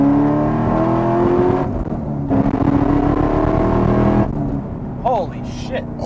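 A 2014 Chevrolet Camaro ZL1 with a 6-speed manual roars as it accelerates, a loud rising engine note from inside the car, broken by brief gear-change dips, with people talking over it.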